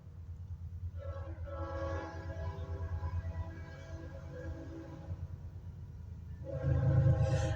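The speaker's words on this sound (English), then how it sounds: "Hang on, there's a train." A train passes nearby, its rumbling wheels and rail noise building for several seconds before a loud horn blast near the end, with no talking over it.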